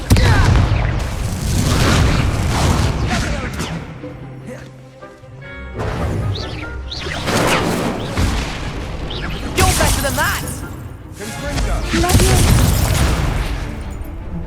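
Confringo fire-blast spells in Hogwarts Legacy combat, a run of heavy booming explosions and crashing impacts in quick succession, loud and close, mixed with shouted spell incantations and other battle noise.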